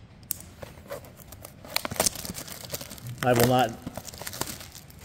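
A 2024 Topps Heritage baseball card blaster box is ripped open with crinkling and tearing of cardboard and foil wrappers, bursts of crackling close up, while a person talks briefly.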